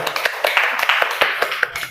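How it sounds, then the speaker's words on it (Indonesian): A studio audience at a singing show gives a round of applause, brisk and fairly close hand claps in an uneven patter, with a faint voice somewhere in the mix. "Kita kasih tepuk tangan."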